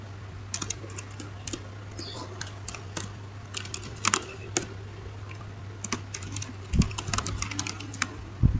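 Keys clatter on a computer keyboard as commands for a network switch are typed, producing quiet scattered clicks and short bursts over a steady low hum, with no talk.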